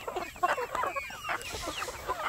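Backyard free-range chickens, hand-raised from eggs and chicks, cluck close by in a busy, overlapping chatter of short calls, with no talking.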